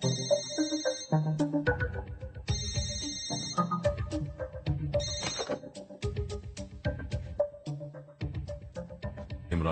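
A telephone rings in an indoor film scene, a loud melodic ring tone that repeats in bursts for about ten seconds, with no talking over it.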